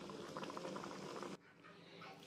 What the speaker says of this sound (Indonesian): ini sudah mulai mendidih ya, jadi kita bisa matikan kompornya.